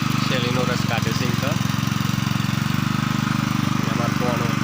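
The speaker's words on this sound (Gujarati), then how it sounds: "શેરડીનો રસ કાઢે છે." A roadside sugarcane juice extractor machine runs with a steady, loud engine-like drone and rapid rhythmic chugging throughout, with voices talking over it.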